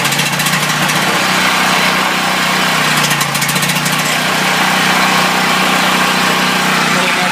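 A small generator engine runs steadily but roughly, with an uneven, sputtering drone and no talking.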